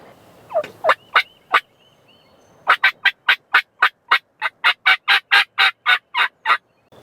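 Wild turkey gobbling in open hardwoods during a Texas or Arkansas hunt: a couple of scattered gobbles, then a long rapid run of about fifteen loud, close, evenly spaced calls, with no talking.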